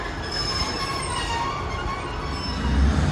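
A train pulls out of Plymouth station, its wheels squealing in thin, sustained high tones over a steady rumble that swells near the end.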